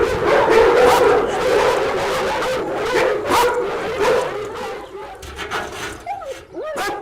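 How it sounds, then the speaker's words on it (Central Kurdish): Several dogs bark and yip over one another, loud and close, with whimpering and a few high yelps toward the end. "زۆربەی سەگەکانی سەرشەقامی لەم پەناگەیە کۆ کردووەتەوە"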